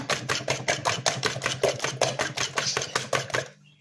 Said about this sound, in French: Vous prenez une fourchette et vous le battez en omelette.